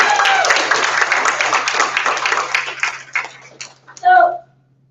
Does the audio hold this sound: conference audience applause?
yes